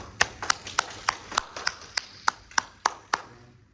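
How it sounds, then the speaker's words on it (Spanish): Eleven sharp, evenly spaced hand claps ring out at a steady beat in a quiet room after a talk, each crisp clap standing alone with a short echo. "Muchas gracias, un aplauso."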